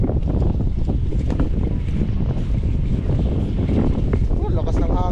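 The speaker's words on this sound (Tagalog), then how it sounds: "lakas ng hangin" Strong wind buffets the microphone at a fishing village, a loud continuous roar and rumble, with people talking beneath the gusts.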